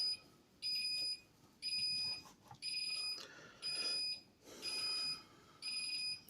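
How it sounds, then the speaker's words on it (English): A fire alarm control panel with a supply fault beeps in steady repeated bursts, roughly one per second-long cycle, high-pitched and fairly close, with no one talking. "It's still beeping."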